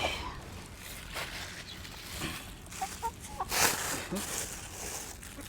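Chickens cluck and squawk in short bursts nearby while being fed, with a person talking now and then over the flock.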